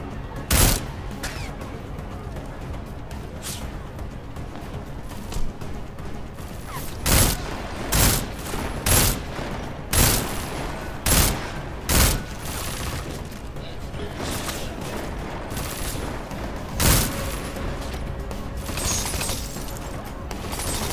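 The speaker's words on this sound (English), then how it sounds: "I was actually wondering who was firing at me." Gunfire in a video game, a series of sharp single shots and short bursts scattered over a steady bed of game noise, some loud and close, others fainter.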